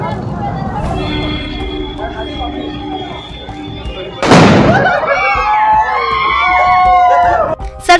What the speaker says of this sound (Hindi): वह पटाखा जलाता है और सड़क पर फेंक देता है।